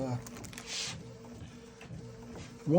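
A printer draws in a sheet of thick decal paper for scale model decals, a brief whirring feed with a short mechanical rasp as a voice talks over it.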